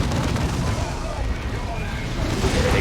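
Orbital bombardment strike in the Warhammer 40k strategy game Dawn of War 2, a dense, continuous low rumble of blasts and booming impacts throughout, fairly loud, with a voice talking over it.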